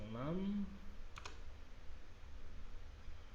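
Computer keyboard keys are pressed in a quick little double tap, faint and close, after a short spoken phrase at the start, with low room noise throughout.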